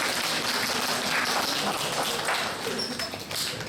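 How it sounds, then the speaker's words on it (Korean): A church congregation clapping steadily, a dense patter of applause that holds throughout and eases slightly near the end. "미디어 팀원들에게 격려의 박수를 보내주시면 감사합니다"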